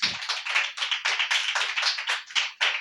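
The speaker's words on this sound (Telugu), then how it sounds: "చప్పట్లు కొట్టండి ఒకసారి" An audience claps on request at a church sermon, a steady run of sharp, overlapping hand claps that carries on for about three seconds, loud and close, with no talking over it.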